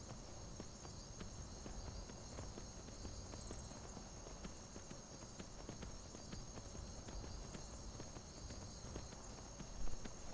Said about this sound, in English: I'm going to walk the horse again until we get on the bridge.